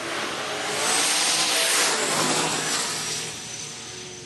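A Ford drag racing car makes a qualifying run on a hot day, roaring down the strip at about 132 mph. The loud engine swells to a peak midway, then fades as it pulls away.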